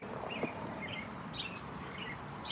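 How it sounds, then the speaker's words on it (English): Small birds chirp outdoors in short, scattered calls, fairly faint against a steady wash of background noise, with a brief clatter near the start. "Y'all hear the birds? Listen."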